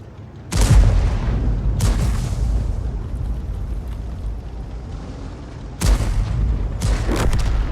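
Heavy artillery shells from an M44 self-propelled gun in World of Tanks land as deep, loud booms, two close together early and two more later, each followed by a rumbling tail over steady battle ambience.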